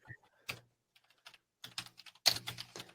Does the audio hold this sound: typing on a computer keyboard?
yes